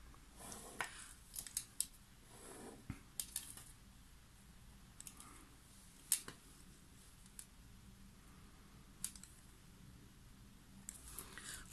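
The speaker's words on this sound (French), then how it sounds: "je vais venir faire des traces pour découper un morceau qui va venir se coller" Paper being cut out with scissors, freehand, for a 2024 calendar page, giving a run of soft, close, irregular snips and crisp clicks over quiet room noise.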